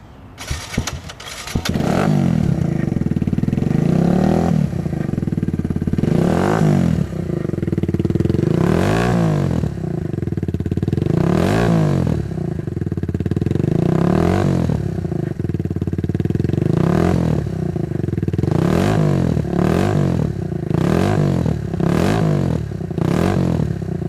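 A Kawasaki Z125 Pro motorcycle with a Yoshimura RS2 aftermarket exhaust starts, then revs loudly in repeated sharp bursts about every two seconds, a deep throaty exhaust rising and falling over a steady idle.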